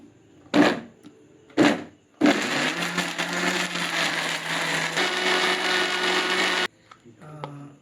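A mixer grinder blends ash gourd pieces in a small jar. Two short pulses come first, then a loud continuous whirring run of about four seconds that cuts off abruptly.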